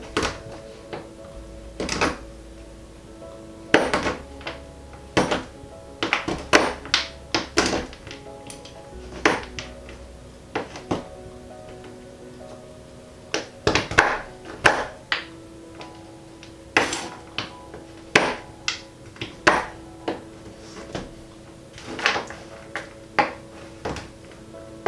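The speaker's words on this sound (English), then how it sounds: "I'm just going to take a knife and literally just cut it into little chips myself" A knife chops a chocolate bar into small chips on a cutting board, sharp irregular knocks in quick bursts and pauses, close and clear with no talking.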